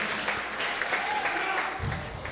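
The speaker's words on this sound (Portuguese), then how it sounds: "Aplauda mais forte" A church congregation applauds at a worship service, dense sustained clapping filling the room, with a voice faintly audible beneath it.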